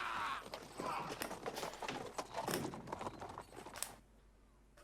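Horse hooves clip-clop in a Doctor Who episode, an irregular run of close hoofbeats on hard ground for about four seconds before fading to near quiet.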